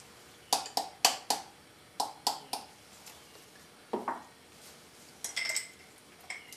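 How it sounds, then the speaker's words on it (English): Potassium hydroxide is stirred into methanol in a glass container, giving a run of sharp, bright clinks and taps of a stirring rod against the glass, fairly close and irregular, with a brief scrape near the end and no talk. "Again, you want to stir this. It's not necessary to heat it though. Just stir."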